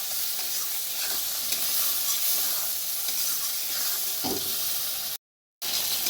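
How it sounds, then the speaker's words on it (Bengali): Turmeric and fish curry spices fry and get stirred in hot oil, a close steady sizzle with scraping stir sounds, then a brief gap of silence near the end. "এটাকে এখন ভালো করে কষাবো আমি, যতক্ষণ না ওর কাঁচা কাঁচা গন্ধটা চলে যায়।"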